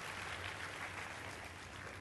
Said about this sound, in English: Can we give him a round of applause once again?